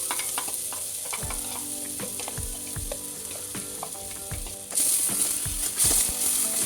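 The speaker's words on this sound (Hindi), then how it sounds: "अब इसमें लहसुन, प्याज, मिर्च को जो मैंने काटा था वो इसमें डालेंगे।" Loud, constant sizzling of garlic, onion and chili frying in a pan, with rhythmic clinks and scrapes of stirring, the hiss growing louder near the end.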